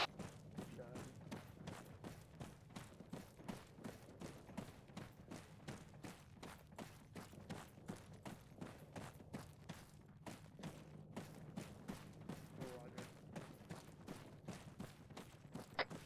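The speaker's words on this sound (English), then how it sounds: "I'm hearing a shit ton of gunfire" Rapid bursts of faint, distant gunfire in the video game ArmA 3 crackle repeatedly in irregular volleys, with occasional thuds, under a low background hum.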